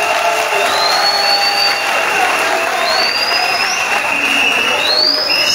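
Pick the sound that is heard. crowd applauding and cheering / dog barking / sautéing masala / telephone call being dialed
crowd applauding and cheering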